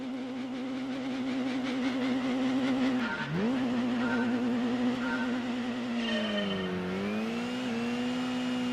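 Mazda RX-7 race car engine in Gran Turismo 2, a continuous loud synthetic engine drone with rising and falling pitch through gear changes and a dip near the middle, no voices.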